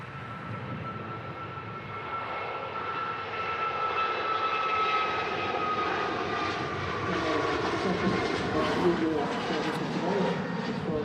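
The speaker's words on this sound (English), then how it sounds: "we've got a Jet2 737-800 on the approach at the moment" A Jet2 Boeing 737-800 on approach to Manchester Airport roars steadily with a broad, whining engine drone that swells slightly over eleven seconds, loud and continuous outdoors.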